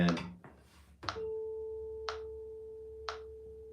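A tuning fork sounds a clear, sustained pure tone after an initial sharp strike, with two more light taps about a second apart while the steady ring continues without voices.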